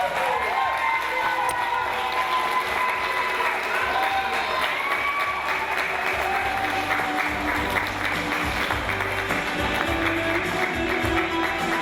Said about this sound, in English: Let's hear a big round of applause for all the girls in our swimsuit event.